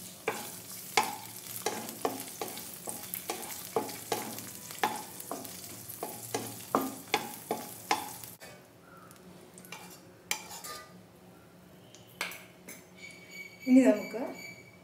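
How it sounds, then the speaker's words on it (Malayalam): Raisins frying in a pan give a rhythmic series of close stirring strokes over a soft sizzle for several seconds, then quieter, sparser scrapes and clinks of the spoon. "ഇനി അതുപോലെ മുന്തിരിയും വറുത്തെടുക്കാം."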